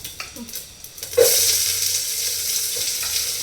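Onion hits hot oil in a pan for masala rice, a sudden loud burst of sizzle after a quiet moment, then a sustained close hiss with faint stirring taps and no talk.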